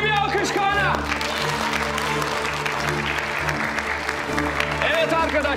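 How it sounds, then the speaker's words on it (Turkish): Audience applause for Kaan as he comes on stage at a show, a burst of clapping under background music with brief excited voices at the start and end. "Koca bir alkış Kaan'a."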